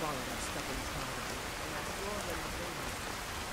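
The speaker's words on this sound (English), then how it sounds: "BlackSide don't like the rain" Steady rain falls during a storm in the fantasy game Skyrim, heard near Dragon's Reach as an even hiss of drops that stays constant and moderately quiet throughout.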